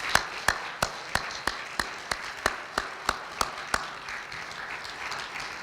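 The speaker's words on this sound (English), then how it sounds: "Another round of applause for them." At a civic luncheon, an audience claps in a steady, evenly spaced rhythm of sharp, distinct claps, about three per second, fairly close and crisp with little crowd noise behind.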